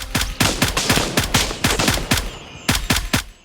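Automatic rifle fire in the military shooter Gray Zone Warfare comes in rapid, close bursts of sharp shots with a metallic ring. Two quick volleys are split by a brief pause.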